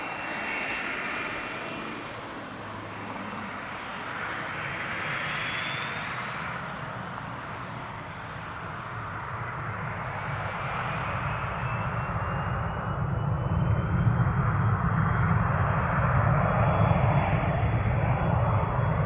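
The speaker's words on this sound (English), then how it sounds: "turn right heading 150, runway 8 right, full length, clear for takeoff" A general aviation airplane takes off from a runway at Spirit of St. Louis Airport, its engine drone building steadily from a moderate hum to a louder, fuller roar as it accelerates.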